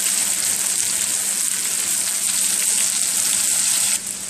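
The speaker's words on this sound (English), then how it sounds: "So while the chicken is frying" Chicken pieces frying in hot oil give a steady, close crackling sizzle that holds even for about four seconds, then drops slightly quieter at the end; no talking.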